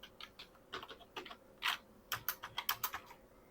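A computer keyboard is typed on close up while entering a username and password for a V-SOL fiber optic ONU router's settings, in short bursts of quiet, uneven keystrokes with no talking.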